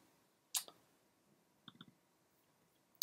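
Computer mouse clicks in a quiet room: a sharp single click, then a quick cluster of three soft clicks, and another click at the end, close and faint.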